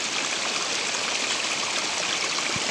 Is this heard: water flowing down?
yes